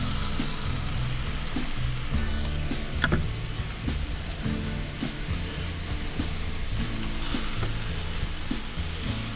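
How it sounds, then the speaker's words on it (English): Gravy for cube steak bubbling and sizzling in a frying pan while being stirred, a loud, close, continuous hiss with scraping and a few brief knocks. "Just keep giving it a stir until you get it to the thickness that you like"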